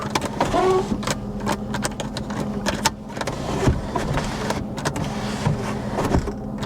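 An electric sunroof motor on a Mercedes car running with a steady mechanical whir and ticking, close and fairly loud over a background hum, with a few clicks and knocks scattered through.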